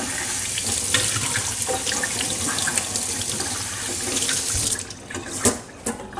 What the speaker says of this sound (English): Now we can just rinse this. Just rinse the inside now.